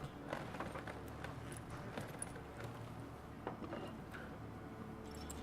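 Horse hooves clop and gallop in The Witcher 3: Wild Hunt, a quiet continuous run of soft rhythmic hoofbeats with light jingling, faint under game ambience.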